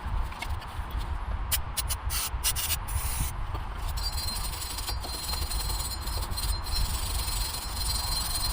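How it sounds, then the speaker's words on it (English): A wire brush scrubs the rear brake rotor of a 2006 Nissan Xterra with brake cleaner, producing continuous loud, gritty rasping strokes close by, broken by short bursts and a steady hiss, with no talking. "clean this up with some brake clean and maybe like a wire brush or something, just to kind of help prevent it from the rotor from sticking"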